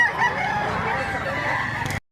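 A rooster of about three years old crows once in one long, sustained, fairly loud call outdoors, then cuts off abruptly.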